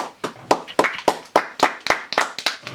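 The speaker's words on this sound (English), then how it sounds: "Oh, you clap." A single pair of hands claps sharply about ten times in a quick, slightly uneven rhythm, close and distinct with no talking over it.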